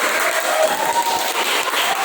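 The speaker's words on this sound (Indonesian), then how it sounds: "tepuk tangan buat kelompok 1" A class of students applauds a group after their presentation, a steady, dense wash of clapping hands filling the room for the full stretch without pause.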